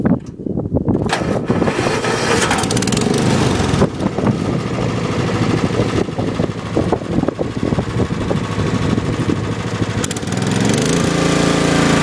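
A John Deere 130 lawn tractor's small engine cranks, catches and then runs at a loud, steady roar close by, with a brief shift in pitch near the end and no talking.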